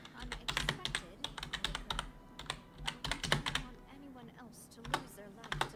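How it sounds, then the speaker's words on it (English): Rapid typing on a PC computer keyboard during a Genshin Impact session, bursts of close, crisp key clicks in uneven runs with brief pauses, a soft voice murmuring now and then underneath. "I'll look it up on my keyboard on my PC."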